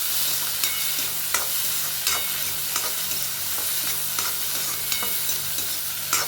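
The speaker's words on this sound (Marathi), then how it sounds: "कांदा टोमॅटो थोड्या तेलामध्ये परतून घ्यायचा छानपैकी" Onion and tomato sauté in a little oil for a brain chutney, giving a loud, constant close sizzle punctuated by regular scraping stirs about every half second to second.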